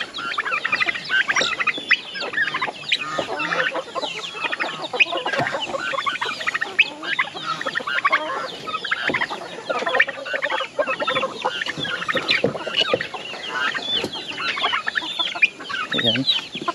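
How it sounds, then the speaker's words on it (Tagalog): A flock of chickens on a countryside farm clucks and squawks continuously nearby, a busy, overlapping chorus of calls that keeps up throughout. "Ito mga manok"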